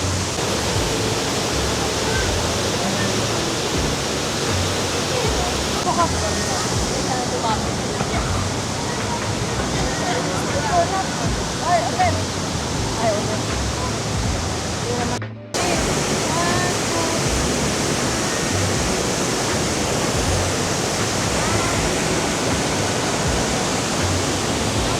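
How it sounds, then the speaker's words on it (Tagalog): A waterfall in Vietnam roars as a loud, continuous wash of rushing water that fills the whole stretch, with faint voices mixed in beneath it. "yung waterfalls na tinutukoy nila"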